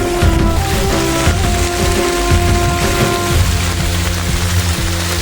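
Heavy monsoon rain pours steadily on a trek up Sinhagad fort near Pune, a dense loud wash of drops drumming on surfaces close by, with no voices.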